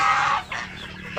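Chickens cluck inside a chicken coop, giving a short burst of close clucking calls that dips briefly and then comes back.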